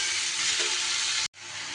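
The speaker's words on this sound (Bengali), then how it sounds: "শসাকে কিছুটা সময় ধরে নাড়িয়ে চাড়িয়ে নিতে পারবেন।" Cucumber curry is stirred in a hot pan, giving a steady hiss and sizzle up close that cuts out briefly, then returns.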